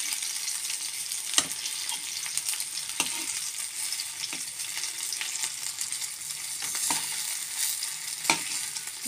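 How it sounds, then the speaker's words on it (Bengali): Fritters (bora) frying in hot oil, a steady close hiss of sizzling with scattered sharp pops and crackles spread through the whole stretch, no voices. "দেখতেই পাচ্ছে বড়াগুলোকে গরম গরম ভেজে নেবো এখন আমি"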